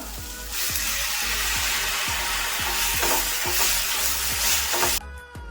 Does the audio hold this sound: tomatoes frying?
yes